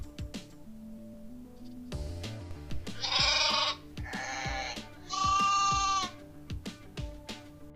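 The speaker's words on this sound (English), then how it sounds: "Sound which sheep makes, we call it baba." Sheep bleating on a farm, three loud wavering calls in succession, close and clear, with quieter background sounds between them.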